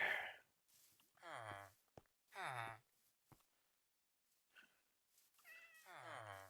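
A cat in the Minecraft video game meows several times in short, separated calls, clear and close against near silence, with a brief soft sigh-like sound between them.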